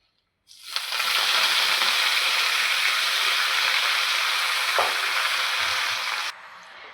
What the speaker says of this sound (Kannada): ಈಗ ರಾಜಗಿರಿ ಪಲ್ಯ ಹಾಕ್ಕೋತೀನಿ ರೀ.